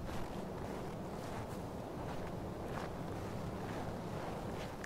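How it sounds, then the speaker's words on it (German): Steady wind blowing through a forest in the video game Far Cry 4, a continuous broadband rush with gusty swells, alone with no talking. "Nur der windige Wind."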